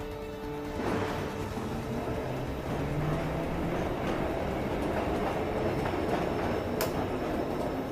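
Train rolling on rails in the video game Assassin's Creed III, a steady close rumble with faint rhythmic clatter and a brief hiss near the end, no voices.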